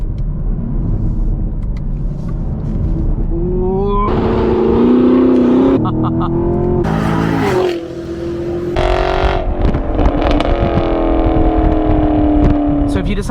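A 6th generation Chevrolet Camaro SS under light throttle, its engine drone rising and shifting in pitch across the drive while someone talks over it.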